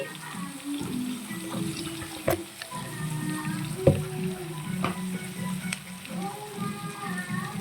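Onions fry in a pan with added salt while being stirred, as part of a meal maker masala curry. A steady sizzle runs throughout, broken by occasional sharp scrapes and clinks from the stirring utensil.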